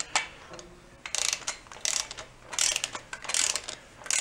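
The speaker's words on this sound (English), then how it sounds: "I got the torque wrench set at like 15." A torque wrench set to about 15 ratchets on a blown-up VW bus engine, giving close, crisp clicking bursts in quick repeated strokes with brief pauses between them, with no talk.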